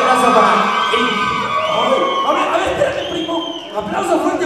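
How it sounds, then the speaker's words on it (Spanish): An audience at a live comedy show roars with cheering, whoops and shouting, a dense, continuous crowd din that stays loud from start to finish. "¡Aplauso fuerte para Eri!"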